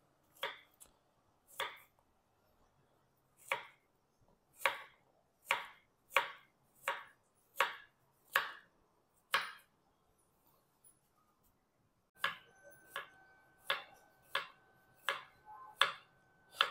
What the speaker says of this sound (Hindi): देखिए, केले को मैं छोटे छोटे गोल गोल पीसेस में मैं काट लूँगा।